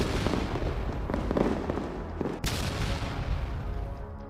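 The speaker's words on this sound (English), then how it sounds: "These Russian soldiers were firing artillery non-stop toward the Ukrainian troops positioned in a nearby trench line." Artillery firing in war footage from the Russia-Ukraine war near a trench line, dense rumbling booms with one sharp close blast amid continuous battlefield noise.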